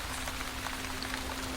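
Steady rain patters on a surface, a dense even hiss of drops close by for a brief moment with no voices.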